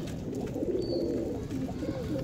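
Pigeons cooing close by in a low, steady murmur of soft throaty calls, continuous and fairly loud, with no talking.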